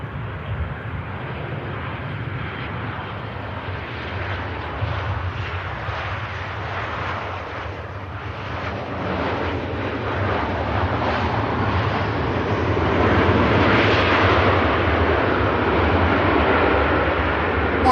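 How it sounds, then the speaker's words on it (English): A Ryanair Boeing 737 arriving at Manchester Airport from Oslo, a broad rumbling engine roar that grows louder toward the end, with some wind buffeting on the microphone. "One Ryanair arrives from Oslo"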